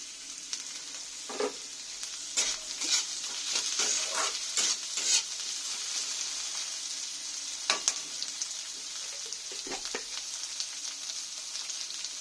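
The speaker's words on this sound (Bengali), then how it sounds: "ভাজা হয়েছে, এবার আমি ক্যাপসিকামটা দিয়ে দেব।" Onion, carrot and capsicum stir-fry in a pan for Maggi, a constant sizzle overlaid with repeated spatula scrapes and taps.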